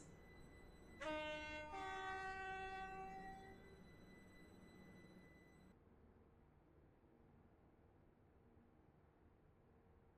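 A train horn in the Roblox game Stepford County Railway sounds a sharp two-tone blast at a station, ringing out and fading into quiet rumble before a click at the end.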